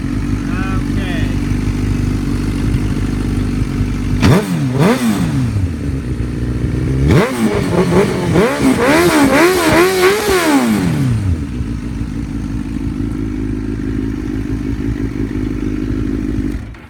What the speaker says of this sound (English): And I'm gonna rev it up and let you guys hear it.